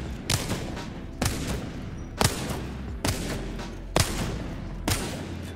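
Six evenly spaced gunshots ring out about once a second as a player fires at large targets in the Apex Legends firing range, each crack sharp and clear over a low steady hum.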